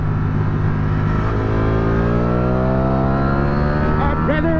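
A 2023 Ducati V4 SP2 motorcycle engine roars loud and close on track, its pitch climbing steadily as it accelerates through the gears, with a brief shift near the end.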